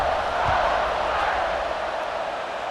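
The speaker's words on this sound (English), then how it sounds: "this crowd is buzzing after that last score" Steady roar of a stadium crowd buzzing in a college football video game, a dense, even wash of many voices holding at a loud level throughout with no clear peaks.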